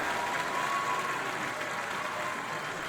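Theatre audience applauding at an opera finale, a continuous even wash of clapping from a large crowd, steady and full throughout with no pauses.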